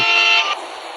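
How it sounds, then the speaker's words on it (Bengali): A loud bus horn from a multiplayer bus driving game sounds briefly, then cuts off and fades into quieter background noise within about a second. "কেডা জানি হর্ন লাগাইছে"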